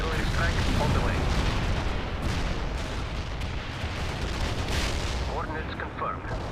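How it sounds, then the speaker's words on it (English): Artillery barrage in the video game World in Conflict, a continuous dense rumble of booming shell impacts and blasts, loud and sustained, with brief radio-style voice chatter over it. "Launching the barrage. Artillery strike on the way."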